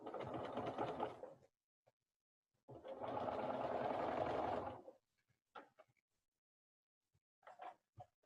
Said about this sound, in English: But sew this together with a 1/4 inch seam